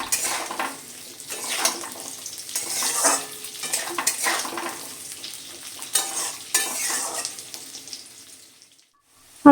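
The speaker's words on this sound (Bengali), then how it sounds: "খুব ভালো করে নেড়ে চেড়ে আলুটা আমি লাল লাল করে ভেজে নেব" Potato strips fry in a pan for a fish curry with magur catfish while a metal spoon scrapes and stirs in repeated strokes, the clatter and sizzle rising and falling up close before fading to quiet near the end.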